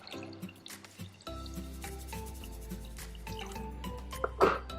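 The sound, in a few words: water being added to cooking pot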